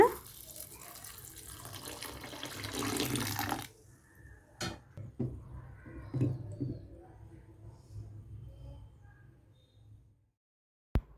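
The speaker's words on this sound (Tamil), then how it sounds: "இது எல்லாத்தையுமே நல்லா வாஷ் பண்ண பிறகு அது மூழ்கிற அளவுக்கு ஃபுல்லாக தண்ணி வச்சுட்டு" Water runs from a tap for a few seconds to cover washed corn dosa ingredients for soaking, then shuts off, followed by quiet clinks and handling sounds in a still room.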